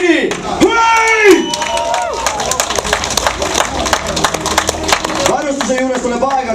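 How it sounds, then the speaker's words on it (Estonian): Outdoor crowd clapping and cheering at an event, with shouting voices rising over the applause, loud and close, and a continuous mix of claps and yells throughout. "No, aplausi siis! No siuke aplaus"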